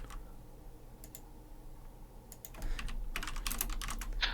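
Quick bursts of keyboard typing, sparse taps at first and then a denser run of clicks near the end, over a quiet hum.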